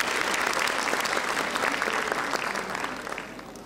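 Audience applause at a children's reading award ceremony as a library director is invited on stage for a medal presentation; steady, dense clapping from a large crowd, fairly close and sustained throughout, easing slightly toward the end, with no talk over it.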